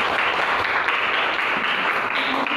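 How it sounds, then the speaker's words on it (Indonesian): A seventh-grade class claps together after a student's discussion presentation, a steady, dense burst of applause filling the room at close range for a couple of seconds. "Tepuk tangan."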